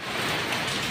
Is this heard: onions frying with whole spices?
no